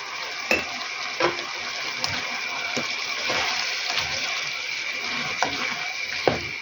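Bell pepper and cabbage stewing in a pan, a steady close sizzle and bubbling with occasional sharp scrapes and clicks of a stirring utensil, no voices.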